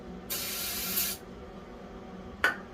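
Starting fluid is sprayed into an International 300 Utility tractor engine in two hissing aerosol bursts, a long spray of nearly a second followed by a short puff, close and fairly loud.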